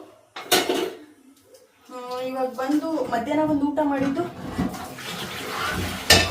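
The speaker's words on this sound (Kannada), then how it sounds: "ಪಾತ್ರೆಗಳೆಲ್ಲ ತೊಳೆದ್ರೆ ಆಯಿತು" Dishes, pots and pans being washed in a kitchen sink, with sharp clinks and clatter, running water, and someone talking over the washing.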